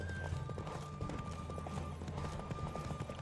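Rapid hooves clip-clop in a steady galloping rhythm in the video game The Witcher III, over a constant rumble of background music and effects, with a brief horse whinny.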